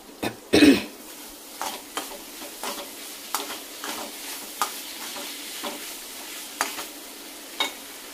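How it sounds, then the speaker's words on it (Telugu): Grated raw coconut and raw mango chutney fries in a pan with a steady sizzle, while a spoon stirs and scrapes in regular close taps, and one sharper knock comes early on. "పచ్చి కొబ్బరి, మామిడికాయ అది పోపు పెట్టాక కొద్దిసేపు వేయించుకుంటే బాగుంటుంది"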